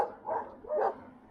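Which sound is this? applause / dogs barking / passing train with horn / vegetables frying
dogs barking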